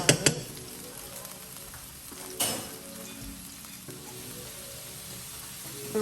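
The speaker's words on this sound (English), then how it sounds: "we're gonna add just a little bit of minced garlic to that" Minced garlic sizzles in a hot pan while shrimp, penne and sautéed greens are being cooked, giving a steady soft frying hiss with a few sharp clinks of a utensil near the start and a brief louder scrape midway.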